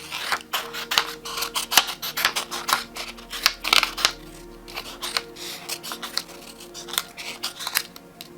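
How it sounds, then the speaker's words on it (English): Scissors cut out handmade paper stickers in a quick, uneven series of close, crisp snips and rustles, with short pauses between the cuts and no speech. "I'm just going to cut them out with my scissors"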